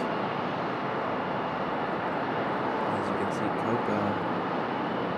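Airbus A220 airliner on approach at Raleigh Durham International Airport, a steady broadband jet roar that holds loud and even throughout, with faint voices under it.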